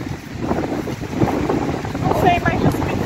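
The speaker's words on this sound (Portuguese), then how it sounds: "Eu acho que o vento tá muito forte pra desbicar." Strong wind buffets the microphone outdoors while a kite is flown, a steady rushing roar with a few faint voices in the background.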